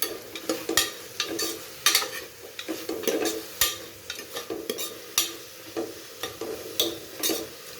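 Onion and tomato sautéing in a pan for basmati tomato rice, with a spoon scraping and stirring in quick irregular strokes over a constant close sizzle, no talking.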